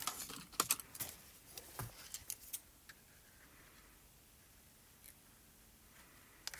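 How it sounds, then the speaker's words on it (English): Spellbinders scissors snip through a sheet of acetate in a quiet room, several sharp crisp clicks and snips up close, then a near-silent pause and one last faint snip. "All we're going to do now is cut off that top excess."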